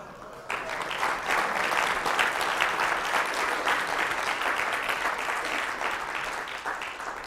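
An audience claps after a talk at a SANS digital forensics and incident response summit, with sustained applause from many hands rising sharply and then slowly tapering, without speech.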